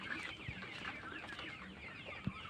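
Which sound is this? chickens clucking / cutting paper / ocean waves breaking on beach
chickens clucking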